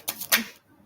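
Tarot cards being shuffled by hand, a brief burst of three quick papery riffles close up, with no talk over it.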